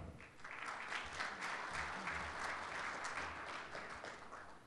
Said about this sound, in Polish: szanowni państwo, proszę o brawa.